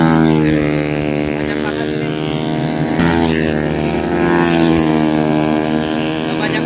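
Loud racing motorcycle engines drone and rev steadily nearby on a circuit during practice, the pitch dipping and climbing again as the bikes pass.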